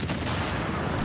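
A brief, dense burst of rapid gunfire in The Division's Grand Central Station mission on Xbox One, a continuous crackling volley at moderate level.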